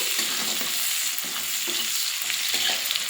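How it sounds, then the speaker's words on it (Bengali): Chopped onion sizzles loudly in oil with nigella seeds and bay leaf, while a spatula scrapes and stirs the pan in repeated rhythmic strokes. "দিয়ে দিয়েছি পেঁয়াজ কুচি পেঁয়াজটা এবারে ভাজা ভাজা করে নেব"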